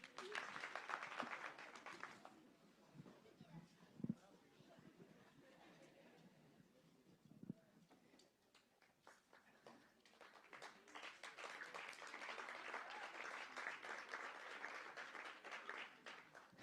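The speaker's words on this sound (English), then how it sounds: "I was standing here when the claps came." Audience applause at an adolescent health and wellbeing symposium in Zimbabwe, a sustained burst of clapping that fades, with a few voices and stray claps in the lull, then swells again into full applause.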